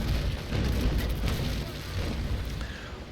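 Cannon broadside from a sailing warship in the Naval Action game, heard as a sustained rumbling barrage of overlapping booms filling the whole stretch, loud and dense with no clear gaps between shots.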